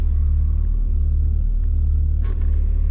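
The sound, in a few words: BMW E21 320is gearbox input shaft noise in neutral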